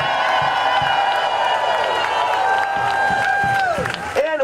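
A No Kings rally crowd in downtown Cleveland cheers and claps, loud and sustained, with whoops and scattered claps under a speaker's amplified voice.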